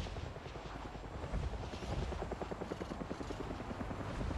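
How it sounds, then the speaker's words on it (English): Helicopter in the video game Avatar: Frontiers of Pandora flies nearby, a steady rotor thrum with rapid rhythmic chopping that holds across the whole stretch, fairly loud and constant with no voices. "Got a chopper nearby."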